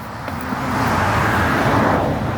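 A car rolls past fairly close on a road, its broad engine and tyre noise swelling over a couple of seconds and holding steady, with no voices.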